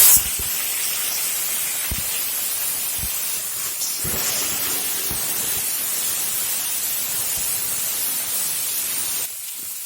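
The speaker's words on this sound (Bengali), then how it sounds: "ভালো করে একটু ভেজে দেবো।" Chopped vegetables frying in a small amount of hot oil for a snakehead fish curry: steady, dense sizzling hiss throughout, close and loud, with a few faint utensil taps.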